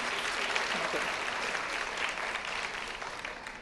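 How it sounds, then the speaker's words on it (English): Sustained applause from an audience at a Mount Saint Vincent University fall convocation ceremony, steady dense clapping filling the hall throughout, with faint voices mixed underneath. "I wasn't sure with all the clapping"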